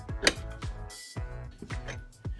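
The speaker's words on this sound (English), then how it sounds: "Just want to start tightening this top nut here, is what that's doing, is just pressing the two cases together" A wrench ratcheting on the top nut that presses the engine cases of a 2007 KTM 125SX together during a bottom-end rebuild, several close clicking ratchet strokes in an uneven rhythm.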